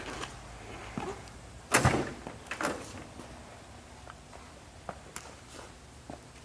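Doors on a 1974 Oldsmobile Hurst official pace car are opened and shut, giving a few soft clunks and latch thuds at moderate distance over a quiet background hiss.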